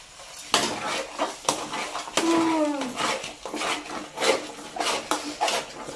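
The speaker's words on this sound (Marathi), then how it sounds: "अशा प्रकारे गूळ टाकलेला आहे आणि ते ढवळून घ्यायचं" A spoon stirs a jaggery mixture in a cooking pot for a Malvani dhondas sweet made from cucumber, with a series of close scraping and clinking knocks against the metal at an irregular rhythm.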